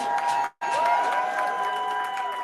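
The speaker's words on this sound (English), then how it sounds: "let's all give a round of applause for Jamel." A crowd at a vaccine-rights advocacy day event in Albany, New York, claps and cheers. The applause is briefly cut off, then resumes with a sustained ringing tone running through it.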